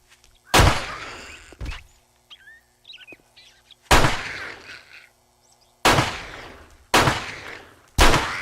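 Pipe pistol fired in the survival game 7 Days to Die: five loud, sharp shots spaced about a second or two apart, each with a decaying tail, and faint chirpy ambient sounds between them.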